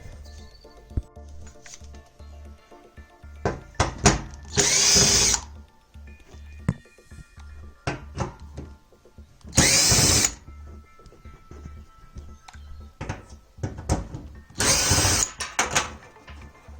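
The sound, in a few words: power drill unscrewing a dryer part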